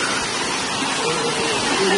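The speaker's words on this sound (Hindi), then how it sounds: "ये सामने में है वाटरफॉल" A waterfall in Bastar roars as a loud, dense, unbroken rush of falling water, close and filling the scene, with a faint voice barely showing beneath it.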